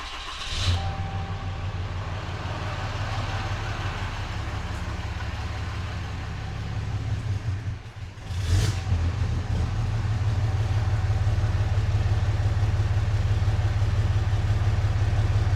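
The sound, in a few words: Cummins diesel truck engine starting and idling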